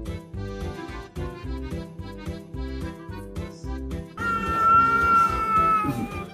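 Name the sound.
cats fighting and meowing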